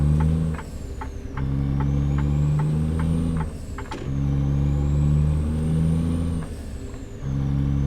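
A Ford CLT-9000 truck with a big-cam engine rated at 475 horsepower drives in a truck-driving video game, its steady low engine drone rising and falling as it revs and shifts through several gear changes.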